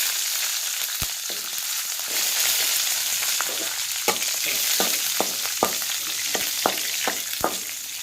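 Green chilies and cumin fry in a pan with a steady bright sizzle, punctuated by a series of sharp stirring clicks and taps that come faster in the second half; close and fairly loud, with no talking.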